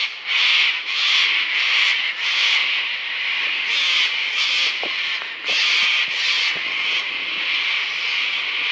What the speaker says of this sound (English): All the cockies coming in to roost.